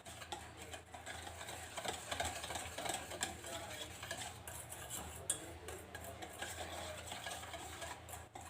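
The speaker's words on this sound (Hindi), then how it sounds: "चलिए अब इसमें मिला लेते हैं कोको पाउडर।" Cocoa powder being stirred into pancake batter in a bowl, a steady soft scraping and swishing with light utensil clinks, close and continuous throughout.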